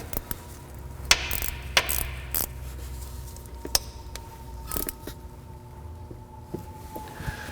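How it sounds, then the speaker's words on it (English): A transmission fill plug is threaded back in and tightened on a 2004 Acura TL with a 3.2L engine, giving scattered metallic clinks, taps and ratchet-like clicks close by, with quiet pauses between them. "Reinstall the plug. Tighten it down this time."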